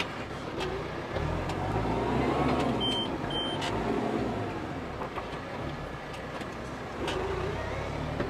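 2009 New Holland T4050F tractor engine idling and pulling in reverse, a steady low diesel rumble with mild swells, fairly quiet and continuous throughout.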